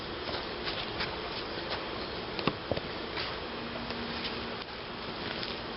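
Honeybees drone steadily around an open hive during an inspection, a continuous faint buzzing with a few soft taps and clicks of handling close by.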